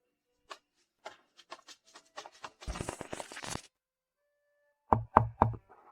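Knocking on a door: scattered light taps, then a dense flurry of rapid knocks, and after a pause three loud, heavy raps close by.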